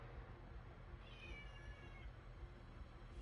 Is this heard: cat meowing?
yes